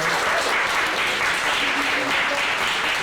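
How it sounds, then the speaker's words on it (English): Sustained audience applause at a live talk event fills the room steadily for several seconds, a dense even wash of clapping with a few voices mixed in. "Give him another round of applause."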